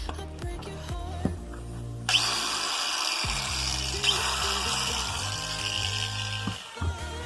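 A FORTE AT 12-125L angle grinder, repaired for a faulty power switch, starts up on a bench test with a sudden high, whining spin that holds steady for several seconds and then winds down.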